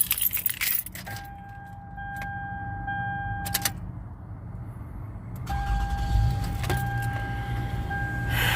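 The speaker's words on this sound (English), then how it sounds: "All right, go ahead and crank it up here." A key jangles in the ignition of a used car, followed by electronic warning chimes and then the engine cranking and catching into a low idle near the end.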